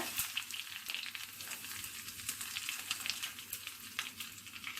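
Cumin seeds and curry leaves sizzle and crackle in hot ghee for venpongal, a bright continuous frying hiss with popping bursts, close and alone without talk.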